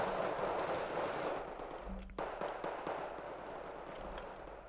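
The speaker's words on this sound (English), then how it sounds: "Another salvo hits the town, but misses the command infantry" An artillery salvo strikes a town in Wargame Red Dragon as quiet rumbling impacts over a dense crackling background. Several distant thuds land partway through.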